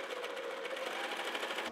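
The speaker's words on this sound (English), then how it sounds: "Sewing the front panel and the back panel, the three parts together." Sewing machine running steadily and close, stitching the front and back dress panels together in a continuous fast whirring hum with no pauses.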